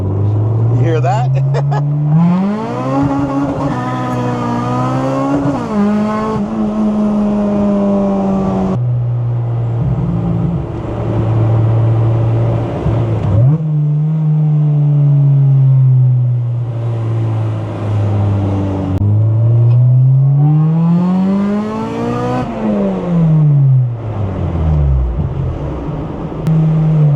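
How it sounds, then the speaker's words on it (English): Transmission and engine of a 1993 Honda Civic with a supercharged B18C and Spoon Sports race gearbox, revving and shifting pitch at low speed while turning, loud and continuous throughout. "when you're turning under low speeds, it makes a lot of noise. There's chatter in the clutch packs."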